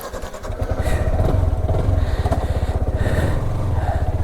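A motorcycle engine runs steadily up close, a continuous low rumbling throb with some clatter, as the bike is taken in for a new tyre and servicing.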